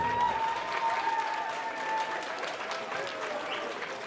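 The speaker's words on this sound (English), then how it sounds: "Ladies and gentlemen, a big round of applause for both of these men," Crowd applause and cheering fill an MMA event venue after a fight between two men, steady and fairly loud throughout while a ring announcer's amplified voice carries over the top.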